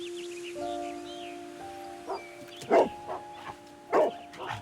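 Toby, a part Basset Hound dog in a video game, lets out four short barks spaced over a couple of seconds, heard above a steady droning musical backdrop.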